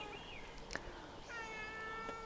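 A cat meows twice in a garden, each call a drawn-out, wavering cry, faint and somewhat distant, with a brief soft click between the two calls.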